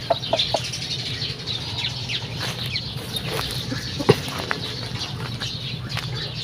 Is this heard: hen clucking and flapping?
yes